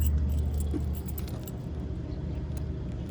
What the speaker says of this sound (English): As I'm bumbling around here with the keys.